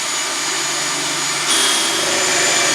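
A drill fitted with a 31/64 bit bores a hole in a 2015 EZGO RXV golf cart, a steady loud whirring that rises in pitch and intensity midway through.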